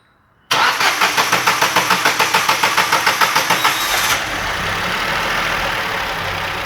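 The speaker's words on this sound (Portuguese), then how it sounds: "E agora a gente vai funcionar ele pra vocês verem como é que tá o funcionamento desse veículo." Ford Ka three-cylinder engine after repair, cranking with a quick rhythmic starter churn for a few seconds, then catching and settling into a smooth, steady idle nearby, no talking.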